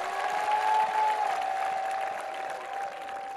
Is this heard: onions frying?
no